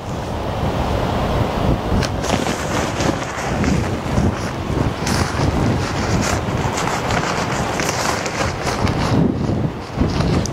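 Steady wind buffets the microphone at a lakeside campsite, a constant loud rushing roar with gusty swells across the whole stretch and no talk.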